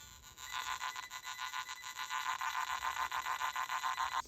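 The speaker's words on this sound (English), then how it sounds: "This is what I mean by it will start squealing at you." A Nokta Makro Simplex+ metal detector squeals over heavily mineralized ground, giving a loud, continuous high-pitched warble that pulses rapidly and steadily for several seconds, with no voices.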